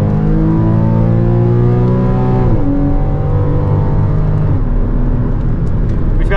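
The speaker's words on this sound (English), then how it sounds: "driving a 2014 981 Porsche Cayman" A 2014 Porsche Cayman 981 base with PDK in sport mode on the M1 Concours track in Pontiac, Michigan: steady loud engine drone from inside the cabin, pitch climbing, dropping sharply at a shift near the middle, then climbing again.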